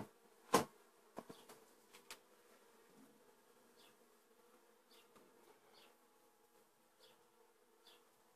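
Honeybees buzz around a garden hive during a honey harvest, faint and intermittent, with a few soft knocks near the start and scattered quiet buzzing passes in a hushed setting.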